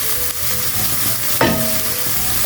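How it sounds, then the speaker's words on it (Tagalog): Chicken fillet with garlic and ginger sizzles and crackles in a hot pan as it is stir-fried, with a brief scrape of stirring partway through and no voices. "Tapos, yan, stir fry hanggang mag-brown color yung ating chicken fillet."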